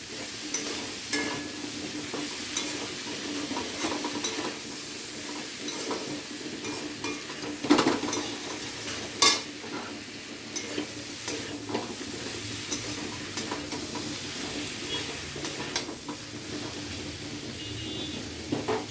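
Potato, pointed gourd and tomato frying in a pan, stirred steadily with a spatula: a continuous soft sizzle with scraping strokes and a few sharper knocks against the pan, close and moderately quiet, no talking.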